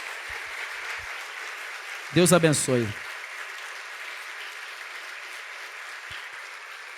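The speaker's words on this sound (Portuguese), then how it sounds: "Vamos aplaudir o Senhor por isso." A church congregation breaks into brief applause lasting under a second, rising sharply after someone speaks and then fading back to a quiet room.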